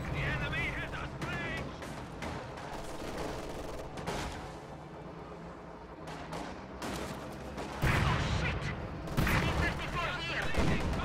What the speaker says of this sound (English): T-34 detonates some S-mines there. Panzer Grenadiers firing on the T-34.